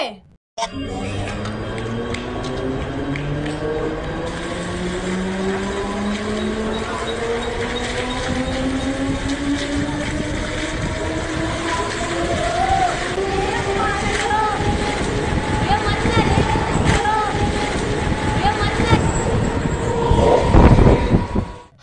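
A train rolls along railway tracks with a loud, sustained rumble. Rising tonal whines and rhythmic clatter build steadily, and the sound grows louder and harsher toward the end.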